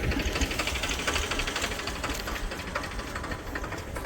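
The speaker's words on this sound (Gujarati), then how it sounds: "અહીંયા ટ્રેક્ટર ચાલુ છે, તમે જોઈ શકો છો।" A tractor digging holes for wire fencing on a farm runs steadily nearby, its engine a continuous rough, knocking drone with no talk over it.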